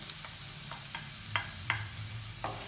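Garlic sautés in hot oil in a pan as Filipino pork adobo is cooked, a steady close sizzle broken by several light scraping stirs.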